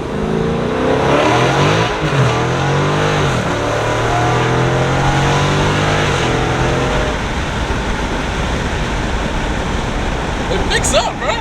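Car accelerating hard with wheels spinning, a loud continuous engine roar with rising and sweeping revs heard close up, while people talk over it throughout.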